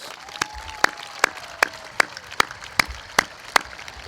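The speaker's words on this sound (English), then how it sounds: "Let's give them a nice round of applause" Graduation ceremony audience applauding classified staff, heard as sparse, sharp claps spaced evenly in a slow, steady rhythm against a quiet room background.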